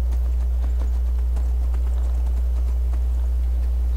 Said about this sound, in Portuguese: Vou deixar meu cavalo aqui.